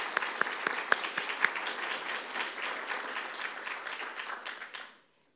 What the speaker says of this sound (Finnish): Eiköhän me anneta sille ihan aplodit.